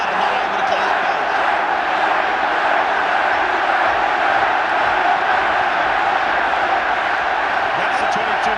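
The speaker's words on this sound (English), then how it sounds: "Tremendous cheering for the home team from the capacity crowd." A capacity stadium crowd roars at a 1994 All Blacks v South Africa rugby match, a dense, loud, sustained wash of cheering that holds steady throughout.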